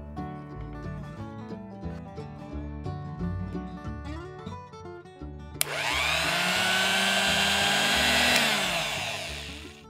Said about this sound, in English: Let's transfer this in a blender jar and grind this to a smooth paste.